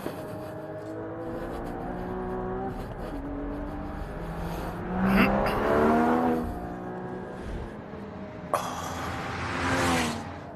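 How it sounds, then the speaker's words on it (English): A Porsche GT4 flat-six on a track lap: the engine revs climb and fall through several gear changes, with a loud surge of acceleration midway and another hard pull near the end. "so let's try a lap in the GT4"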